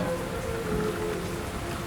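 Rain falls steadily in a cartoon, a dense, even hiss of drops on surfaces with no pauses and no voices.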